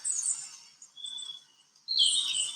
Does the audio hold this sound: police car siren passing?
no